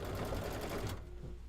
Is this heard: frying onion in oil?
no